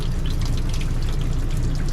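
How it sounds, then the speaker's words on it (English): Water running from a tap inside a Class A motorhome, a continuous, close splashing and trickling stream at steady volume, with no voices. "then what you're going to do is run the water until you smell bleach"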